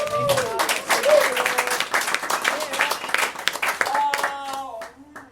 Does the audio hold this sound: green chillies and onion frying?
no